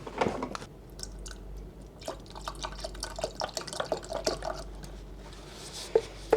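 White vinegar being poured into a film soup mixture, scattered irregular drips and small liquid splashes, soft and close, with no speech.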